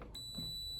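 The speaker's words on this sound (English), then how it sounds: "That's the alarm, I guess." A steady high-pitched electronic alarm beep from an Indesit condenser tumble dryer sounds continuously against a low background hum, quiet and unbroken.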